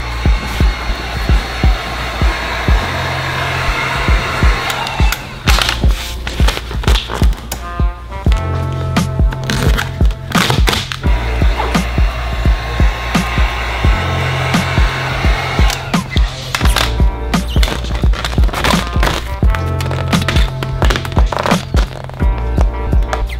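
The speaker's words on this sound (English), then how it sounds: "this is where the heat gun comes into place" Heat gun blowing while heating vinyl wrap on a car, a steady whirring airflow hum broken by frequent clicks, taps and handling knocks, with the gun cutting out and restarting several times.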